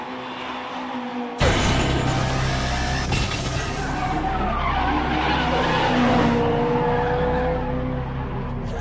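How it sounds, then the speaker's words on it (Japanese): A car with a newly swapped engine roars in suddenly and loud, its engine revving hard as tires screech and squeal through a long skidding turn. "このエンジン音は"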